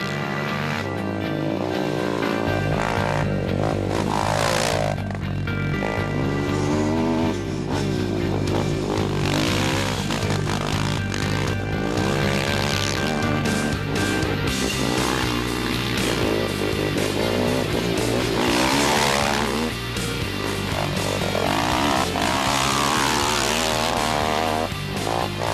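Quad bike engines race in the Kalahari 400 desert race, a continuous buzzing drone that rises and falls as they rush past, with some distance and layering.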